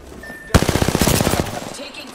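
A loud burst of rapid machine gun fire from a video game, a tight string of about fifteen shots starting abruptly and fading out after a second, over a quiet background.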